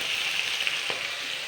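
Fish rubbed with salt and turmeric frying in a pan, giving a steady, close, even crackle and hiss with a few small pops, no voices.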